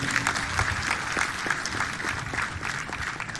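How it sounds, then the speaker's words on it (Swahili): A crowd at a Kenyan state ceremony applauds an army officer, Lieutenant Colonel Faith Mwangandi, with steady dense clapping from many hands throughout. "mpigie makofi jameni"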